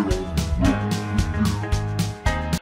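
A singing voice pitched down by 12 semitones sounds deep and thick over backing music, with a run of sustained sung notes.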